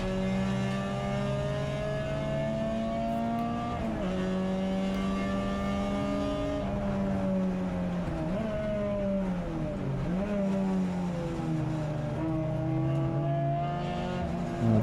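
Turbocharged Renault Clio touring cars race at Silverstone, engines droning loudly and steadily with rising and falling pitch through gear changes and corners, one car prominent with others audible in the background.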